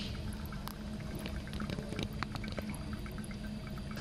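Water is poured down into the engine intake of a Jeep Wrangler, giving a steady close trickling and splashing with scattered drips throughout, with no voices.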